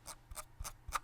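Four soft, evenly spaced ticks from the scroll wheel of a Logitech G Pro X Superlight wireless gaming mouse turning notch by notch, very close and quiet.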